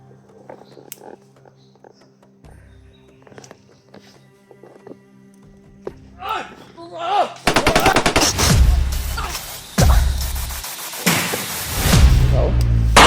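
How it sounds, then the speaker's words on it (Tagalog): Gunfire rings out in a series of loud, sharp bursts and rapid cracks during the second half, following a quieter stretch with scattered knocks; voices are heard around the shots. "Putukan, magputukan."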